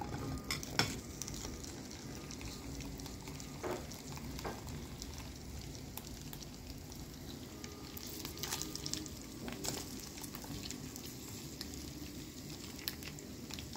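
Sliced okra fries in a small amount of oil in a pan, giving a steady, soft sizzle with occasional stirring scrapes and crackles throughout, with no voices.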